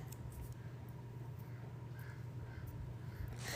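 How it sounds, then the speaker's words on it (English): Crows or ravens caw outdoors in a few brief, scattered calls, faint and somewhat distant over a steady low background hum, with no talk. "I don't care if the crows are squawking. The ravens are outside just making all kinds of noises"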